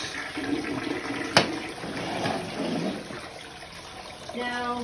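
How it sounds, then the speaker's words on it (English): A toilet flushes during bathroom cleaning, a steady rush and gurgle of water at moderate volume lasting several seconds, with a sharp click near the start and a softer trickling refill toward the end. "You do your flush."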